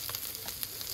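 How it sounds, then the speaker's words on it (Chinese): Small capelin fish sizzle and crackle in a hot frying pan, a steady loud hiss with brief spitting pops throughout. "另一面稍微煎香一点点就可以了，它会一煎它爆开"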